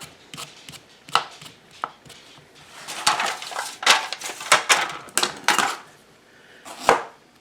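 Parsnips being chopped with a knife on a cutting board: a series of sharp, close knocks, sparse at first and then quicker and denser in irregular bursts, with no talking.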